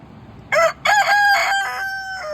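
A rooster crows loudly and close by from a coop area on a small farm, one drawn-out cock-a-doodle-doo with a brief break partway through, with no one speaking.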